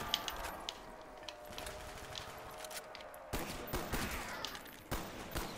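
Bursts of gunfire from a weak weapon, likely a grenade launcher, in Black Ops 1 Zombies on the Call of the Dead map, scattered shots at first, then sharper, louder reports in quick clusters over a low background hum.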